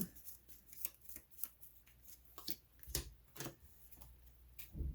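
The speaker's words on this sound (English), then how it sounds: "Shuffle these up." Playing cards from a Legendary Marvel deck-building game get shuffled by hand on a tabletop, a series of soft, irregular riffling snaps and clicks, quiet and close, with no talking.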